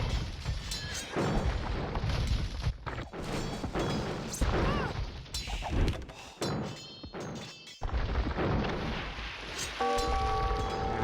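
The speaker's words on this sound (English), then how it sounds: "Cannon guns going here, get some dodging action if you can move." Cannon fire and battle effects in the 1999 PC strategy game Age of Kings: repeated booming thuds, crashes and impacts in irregular bursts, loud and close, with brief game chimes and no talking.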